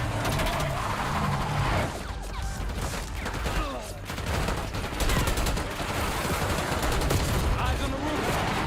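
Rapid gunfire from a video game battle at a palace gate, dense bursts of shots crackling continuously through the whole stretch amid loud chaotic combat noise.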